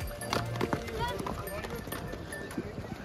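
Horse hooves clop on a snowy mountain trail near Pahalgam, Kashmir, in freezing cold, with scattered uneven hoof strikes amid steady outdoor noise and nearby talking.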